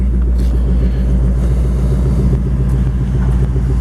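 A 5.0 Coyote 32V V8 in a 1942 Ford Sedan Delivery resto mod idles close to the microphone, a loud, steady, deep rumble with a fast even pulse throughout.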